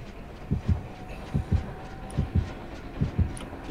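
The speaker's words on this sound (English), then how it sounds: "I heard a heartbeat." The killer's heartbeat warning in the video game Dead by Daylight, four evenly spaced double thumps in a slow, steady lub-dub rhythm, heavy and clear over a low hum.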